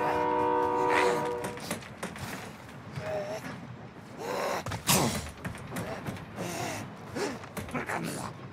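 A train in the Call of Duty Warzone video game sounds its horn in a sustained tonal blast at the start, followed by rumbling game action, gasps and player chatter over it.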